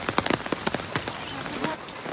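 Rain patters steadily on a campsite on Fraser Island, with dense close drops striking tarps and gear in an irregular, continuous patter.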